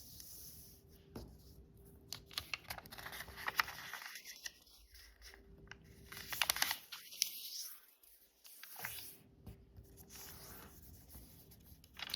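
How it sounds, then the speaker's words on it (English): Paper is folded diagonally in half while making an origami crane: soft crinkles, scrapes and creasing rubs, close and quiet, in irregular bursts with brief pauses. "and fold it in half diagonally the other way."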